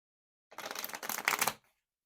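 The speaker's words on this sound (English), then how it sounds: "Let me give this a good shuffle." A deck of tarot cards riffled and shuffled in two quick bursts, crisp papery flutter close up, with no talking.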